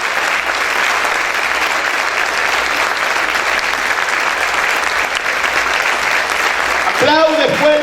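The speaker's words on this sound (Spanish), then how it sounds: "Dale ese fuerte aplauso al Señor." Church congregation during a Spanish-language worship service applauding loudly and steadily for several seconds, dense sustained clapping with a voice rising over it near the end.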